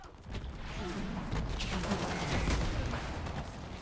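Dense gunfire rattles through a battle sequence in the Modern Warfare 4 campaign, a steady, close barrage of overlapping shots with no clear pauses.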